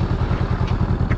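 A Honda Rebel motorcycle pulling away, a brief close engine burst with a fast, regular pulsing chug.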